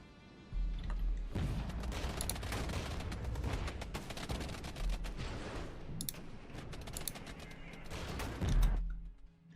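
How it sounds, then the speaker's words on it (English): Mortar fire and battlefield effects in the real-time wargame Regiments form a sustained, rumbling barrage of thuds and blasts with deep low booms at intervals, loud and without speech. "let me use the mortar to again just like suppress whatever's here"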